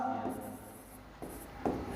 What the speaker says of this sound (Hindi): तो नीचे एक लाइन लिख देंगे